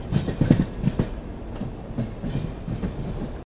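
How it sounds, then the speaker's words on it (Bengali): A passenger train pulls out of Ambala Cantonment station, its wagons rumbling on the rails with rhythmic clickety-clack wheel beats, steady and fairly loud with no talking. "আমাদের ট্রেনটি আম্বালা ক্যান্ট থেকে ছেড়ে দিল, আর এই ট্রেনটির পরবর্তী স্টপেজ হচ্ছে লুধিয়ানা জংশন।"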